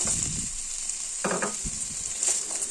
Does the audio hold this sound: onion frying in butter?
yes